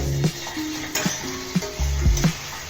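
Shrimp fry in a pan with oil sizzling underneath while a utensil stirs and scrapes, giving several sharp metallic knocks and clinks at irregular intervals.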